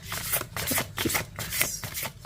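Tarot cards shuffled by hand, a run of quick papery riffles and soft slaps in a steady rhythm, close and moderately loud with no voices.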